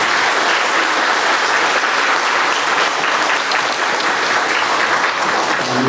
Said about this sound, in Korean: 우리 교수님 나오실 때에 자, 우리 박수로 힘차게